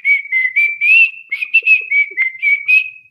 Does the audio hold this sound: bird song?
no